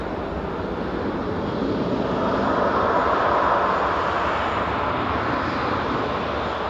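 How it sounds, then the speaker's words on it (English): A Jet2 airliner departing Manchester Airport on a flight to Rome, its engines giving a broad, steady roar that swells slightly mid-way and holds, heard from a distance with no other sounds. "Jet2's GDFY departing there to Rome with flight 987."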